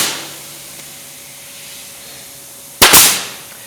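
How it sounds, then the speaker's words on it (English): A C1 brad nail gun fires once: a single sharp, loud pneumatic crack near the end, close by, after a few seconds of quiet workshop room tone during arch and archway woodworking. "Now the beauty with this C1 brad gun"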